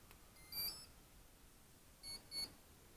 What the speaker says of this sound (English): Got the 2 beeps.